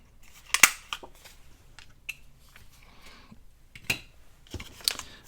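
Scissors cut out a small paper circle for a handmade scrap envelope, giving a few sharp close snips and crisp paper crackles separated by brief pauses.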